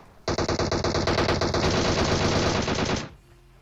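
DP-28 machine gun firing in PUBG Mobile: a continuous loud automatic burst of rapid shots lasting about three seconds, then abrupt silence.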